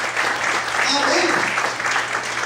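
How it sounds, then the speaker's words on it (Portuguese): A church congregation claps during an evening service, a steady wash of applause with some voices mixed in over a low hum, close and fairly loud throughout. "Dá uma glória a Deus e aplauda, e exalte ao Senhor nessa noite"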